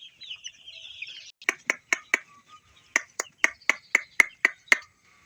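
Chickens on a poultry farm, startled into running, give a rapid series of sharp, close clucks in two bursts with a brief pause between, over faint background chatter of other birds.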